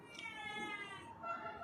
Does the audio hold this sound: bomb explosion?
no